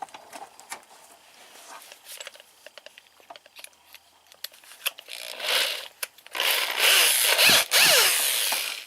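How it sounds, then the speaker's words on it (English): Power drill boring a hole while adding a second alternator to a Geo Tracker, quiet clicks and handling at first, then loud bursts of drilling near the end. "Take my drill."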